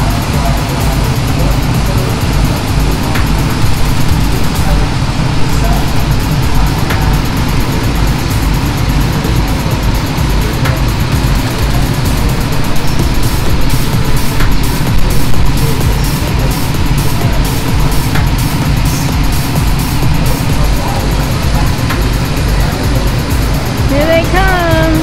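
Go-karts circle a track at Speedy's, their small engines droning and whining continuously as karts pass, loud and near, with crowd background noise throughout.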